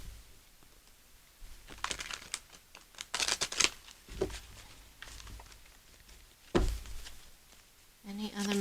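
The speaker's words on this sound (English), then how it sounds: "This is where I split the deck to shuffle." Tarot cards are split and shuffled by hand in several short papery riffling bursts, some louder than others, with quieter handling between them and a brief tonal sound near the end.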